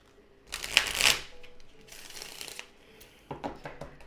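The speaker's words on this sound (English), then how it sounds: "Let's shuffle one more time for good measure." A deck of cards being shuffled at close range, two quick riffles followed by a softer bridge, quiet and alone.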